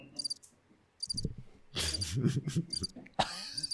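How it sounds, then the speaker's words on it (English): A crickets sound effect chirps in short bursts against a quiet background, with soft thumps and rustling mixed in. "Crickets."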